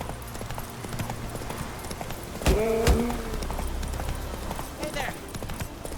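A horse runs in The Witcher 3, its hooves clip-clopping steadily under a game soundtrack, with a sharp burst of louder effects midway and a voice now and then.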